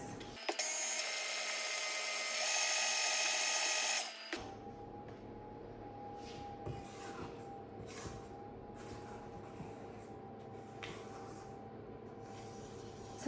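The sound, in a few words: electric mixer whisking cake batter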